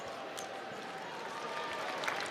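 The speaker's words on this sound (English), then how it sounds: "And Morsell getting a nice round of applause for his effort" Steady crowd applause filling a college basketball arena during an NC State game, a continuous broad roar of clapping and cheering heard from a distance and holding at an even level throughout.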